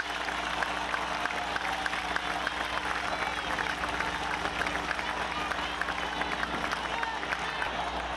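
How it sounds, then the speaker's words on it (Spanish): Applause for senators inside a legislative chamber, a dense, steady wash of clapping from a large crowd that holds at an even level throughout, with some voices mixed in. "Un aplauso a las senadoras y a los senadores."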